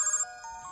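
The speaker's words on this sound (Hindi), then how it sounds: "फोन बज रहा है, उसी का होगा।" A phone ringtone chimes briefly, a clear electronic melody at moderate volume with no voices.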